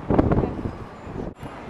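Strong gusting wind buffets the microphone in Times Square, New York, a loud, rumbling roar with brief surges and a sudden lull near the end, with faint city traffic beneath.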